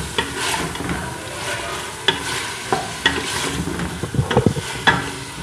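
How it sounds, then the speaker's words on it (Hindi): Mutton sizzles and fries steadily in a pan with onions, with irregular scraping stirs and a few sharp utensil knocks against the pan, close and fairly loud with no talking. "प्याज डाल के इसको मज़ीद 1 से 2 मिनट भूनेंगे।"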